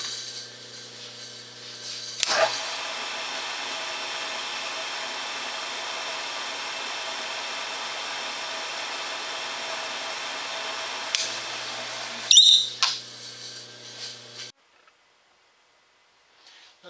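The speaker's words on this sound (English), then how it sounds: "I'll be turning the phase converter on again, so may get some extra noise, and we'll go ahead and proceed with the cut." Phase converter running in a metal shop during a rib flange bending cut: a steady mechanical hum and whine holds for about twelve seconds, with sharp clanks at the start and near the end before the sound drops to silence.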